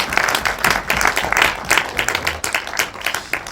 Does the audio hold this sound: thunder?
no